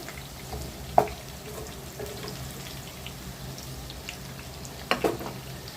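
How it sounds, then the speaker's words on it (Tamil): Small onions sauté in a pan for tomato pickle, a low steady sizzle with two sharper spoon scrapes or stirs, one near the start and one near the end. "ஓரளவு ப்ரௌன் கலராக வெங்காயம் மாறணும் அந்த அளவு நம்ம வந்து வதக்கி கொடுக்கணுங்க"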